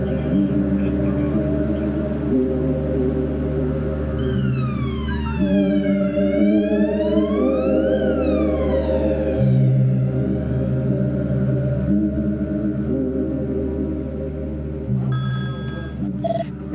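An ambulance siren wails with rising and falling tones over a steady low rumble, growing clearer midway as it arrives, then fading as a brief electronic beep pattern appears near the end.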